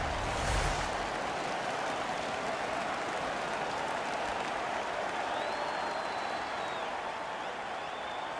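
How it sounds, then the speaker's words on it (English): A hockey arena crowd roars in NHL 2015 during a Montreal at Toronto game, a dense, steady wash of cheering that holds at an even level throughout. "The crowd is ecstatic."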